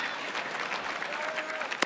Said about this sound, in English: oh, you applaud them, huh?